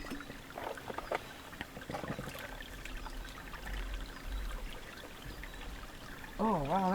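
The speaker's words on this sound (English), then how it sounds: "Put a little bit of water in here first." Water trickles and pours outdoors into a fish trap in a soft, steady stream, with a brief voice near the end.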